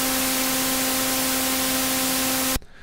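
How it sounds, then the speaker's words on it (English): A harsh steady hiss of white noise on one channel mixed with a buzzing sawtooth test tone on the other from a Casiotone CT-S1000V keyboard, loud and constant, cutting off abruptly near the end. "we have white noise on one channel and sawtooth wave on the"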